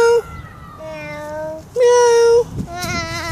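A young child imitates a cat's meow with a few drawn-out, sing-song meow sounds in a row, close to the microphone, with an adult's voice between them outdoors.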